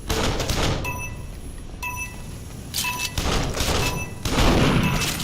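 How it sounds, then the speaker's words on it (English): Video game pistol fire comes in a dense, noisy barrage of repeated shots and thuds, loud and continuous, with brief ringing tones between bursts. "I can't aim with this pistol."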